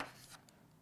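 A short, faint scratch of writing on a board, a brief rubbing stroke that fades within a second in a quiet room.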